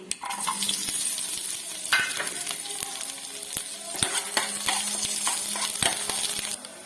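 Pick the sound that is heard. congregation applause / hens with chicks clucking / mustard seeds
mustard seeds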